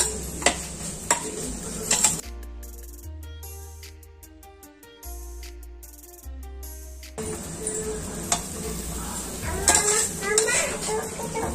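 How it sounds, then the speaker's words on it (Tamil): Mint being sautéed and stirred in a pot for tomato biryani: scraping, clattering stirs and a light sizzle at the start and end, with a stretch of music in between. "பட் நான் இதோட சேர்த்து வதக்கிடுவேன்"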